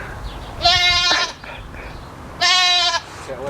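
A goat named as facing eviction from a city street gives two loud, close bleats about two seconds apart, each a harsh wavering call lasting about half a second, over faint background noise.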